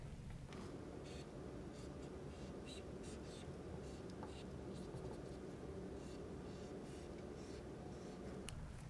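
A pen draws a chemical structure on paper, giving a quiet, continuous scratch of strokes over a low room hum, with no talk.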